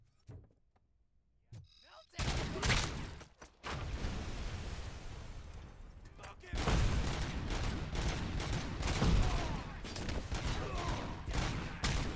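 Gunshots in the video game RoboCop: Rogue City. A few sharp shots come after a quiet start, followed by sustained heavy gunfire and clattering combat noise with a voice talking over it.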